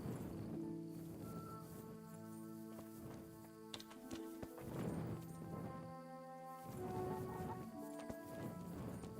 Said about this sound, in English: I'd like to know whose this horse is.